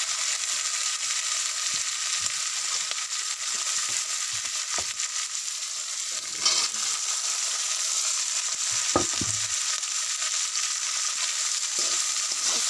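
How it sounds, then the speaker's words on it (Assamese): Potatoes and broccoli fry in a hot pan, giving a continuous hissing sizzle with a few scattered scrapes and clacks from stirring, no talking. "মই লৰাই দিওঁ ধুনীয়াকৈ"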